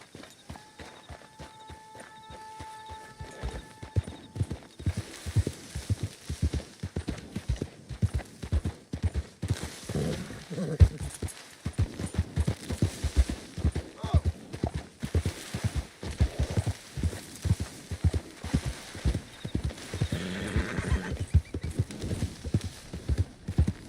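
Horse hooves clip-clop in a steady walking rhythm in the Red Dead Redemption 2 video game, close and distinct, with a brief neigh and a faint tone early on, continuing evenly over ambient outdoor noise.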